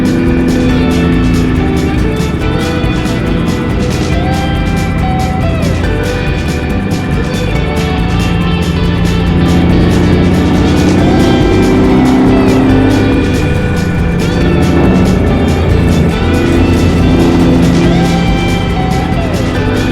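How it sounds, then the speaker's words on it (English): American diesel truck engine droning on the road, a loud continuous hum with shifting tones as it drives, steady throughout without any talking. "just me and the hum of this truck"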